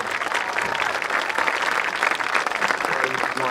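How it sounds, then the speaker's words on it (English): An audience applauds the concert choir at a commencement ceremony, a short, continuous, evenly dense round of clapping filling the hall without pause. "Another round of applause as I go back to the beautiful song"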